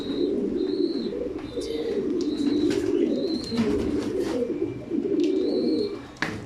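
Racing pigeons coo repeatedly in a loft, low throaty calls rolling over one another continuously, with a few higher chirps and rustling wing movements mixed in nearby.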